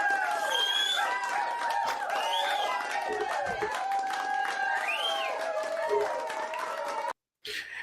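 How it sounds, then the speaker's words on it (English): A crowd sound effect plays, with loud cheering, clapping and whoops layered into a dense, continuous roar that cuts off abruptly near the end before resuming briefly. "Keep that crowd effect going."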